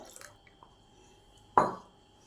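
Water poured from a rinsed mixer grinder jar into a bowl of ground chickpea chutney paste: a few faint drips, then one short, sharp splash up close, otherwise quiet with no talking.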